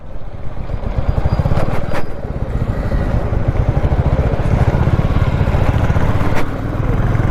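A motorcycle rides on a wet road after rain, its engine droning loud and close with a steady pulsing rumble and road and wind noise, with no voices.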